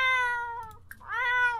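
Two close, clear meows from a cat patient in a pet clinic simulation game, one drawn-out call followed by a short pause and a second rising meow, loud and alone with no talk.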